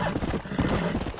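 Hooves clop on the ground from a horse in the Brazilian countryside video game GTA da Roça, a brief quick run of close hoofbeats with a faint voice underneath.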